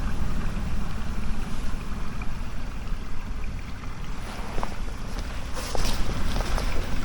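A boat motor runs on a river backwater of the Nemunas, a steady low rumbling drone mixed with wind buffeting the microphone, continuous and fairly loud with a few faint knocks.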